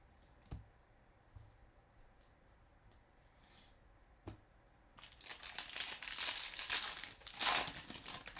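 Crinkling foil card packs being torn open during a baseball card break, a few isolated clicks and handling sounds first, then a dense, loud burst of crackling wrapper tearing and crumpling up close.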